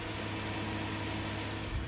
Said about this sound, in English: I'll let you listen to that motor.